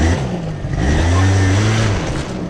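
A quad bike engine revs up close and loud, its pitch climbing and holding before easing off, continuous throughout the short stretch.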